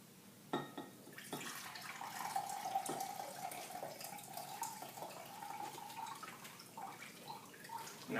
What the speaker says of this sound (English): We're going to take that water out because this is a water-free cooking